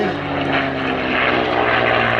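A P-51D Mustang, Mustang Mark IV, at an air and car show, its propeller engine giving a loud, steady droning roar close by with no talk over it.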